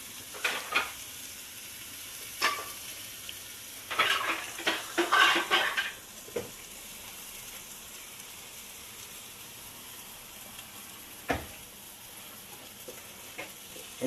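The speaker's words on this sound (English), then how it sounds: "I'm going to get one of these little cups full of water and throw it in there" Water thrown into a hot pan of vegetable stir fry hits with a burst of sizzling and clatter, then settles into a steady low frying hiss with occasional utensil clinks.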